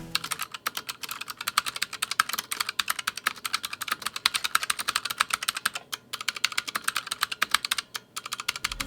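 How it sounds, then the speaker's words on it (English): Rapid, crisp clicking of a Bloody B820R mechanical keyboard with blue clicky switches typed on quickly, a dense rattling stream of sharp keystrokes with brief pauses. "These are like the blue switches with the machine gun sound effect."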